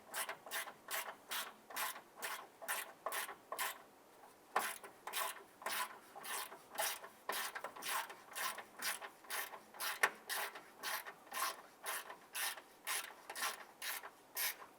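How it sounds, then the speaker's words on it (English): A hand ratchet tightens a bolt holding a plastic radiator to the metal frame of a 2011-2017 Honda Odyssey, giving a steady run of close, crisp ratcheting clicks in regular strokes with a brief pause near the middle, with no talking. "Now I'm going to tighten this down using our hand ratchet because we're going to be anchoring plastic to metal."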